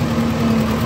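A tractor engine runs with an attached farm machine, a steady close-up idle-like drone with a strong low hum and no other sounds.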